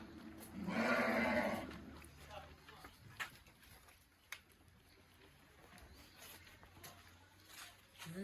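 A newly arrived flock of sheep bleating, one loud, nearby bleat early on, then faint animal stirring and scattered bleats under a voice.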